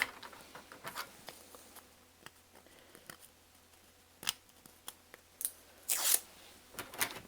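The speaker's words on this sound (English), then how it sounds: "let's get our plastic peeled off this" Protective plastic film being peeled off an acrylic sheet: quiet, close crinkling and patter with a few sharper tearing rips near the end, in an otherwise still room.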